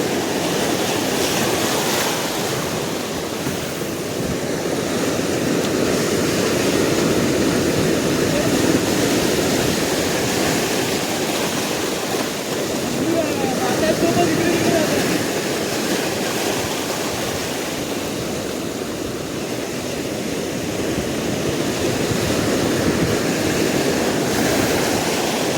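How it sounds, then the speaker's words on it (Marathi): High-tide sea waves roll onto the Ratnagiri shore, a loud, continuous roar of surf that swells and eases in broad surges, heard from close by with no speech. "भरती चालू आहे. मोठी लाट येते."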